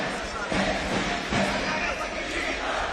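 A Russian crowd at a light heavyweight boxing match roars and murmurs in a steady mass of noise, with brief swells and a commentator talking over it.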